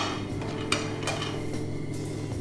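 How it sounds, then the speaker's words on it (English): Pine nuts frying in a mix of ghee and a little olive oil while being stirred in a pan, a soft steady sizzle under scattered clinks and scrapes of a utensil against the pan. "We'll fry the pine nuts first."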